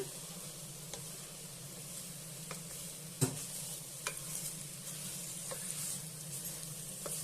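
Soft, steady sizzle from avarekalu pulao rice in a pot as it is stirred slowly, with occasional light scrapes and one sharper knock of the spoon against the pot.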